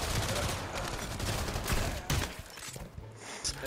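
Gunfire in the VR shooter Pavlov VR, with a steady wash of shots and bursts running throughout, a few louder reports standing out near the middle and end.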